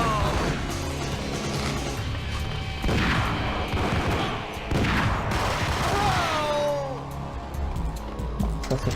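Continuous, loud gunfire from the Max Payne video game comes in dense volleys of shots mixed with booms and crashes under a constant game soundscape, with a voice talking at times.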